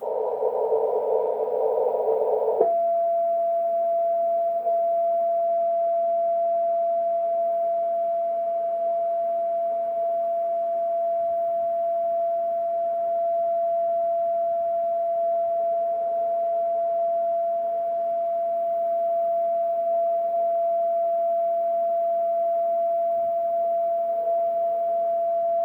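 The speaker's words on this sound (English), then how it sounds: "a solid CW signal." A solid, unpulsed continuous-wave radio transmission from Arecibo Observatory in Puerto Rico: after a brief hissy burst it settles into one steady, unbroken pure tone that holds evenly to the end.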